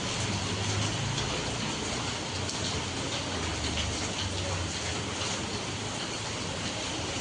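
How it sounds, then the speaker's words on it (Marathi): Heavy monsoon rain pours onto a road at night as a dense, loud, unbroken wash of noise, with some low wind rumble against the microphone. "आज लगे अचानकच आता पाऊस सुरू झाला"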